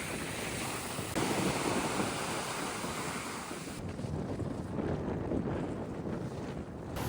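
Loud wind buffets the microphone over the constant rush of surf breaking on a beach in Mallorca, continuous and close throughout.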